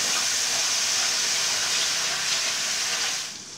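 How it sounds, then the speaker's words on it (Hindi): Garlic-ginger paste cooks in a hot pan for a samosa filling, giving a steady, loud, broadband hiss that holds evenly throughout and eases slightly at the very end, with no talking. "लहसुन अदरक का पेस्ट पका लिया है मैंने"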